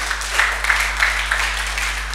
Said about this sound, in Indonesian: Terima kasih buat tepuk tangan.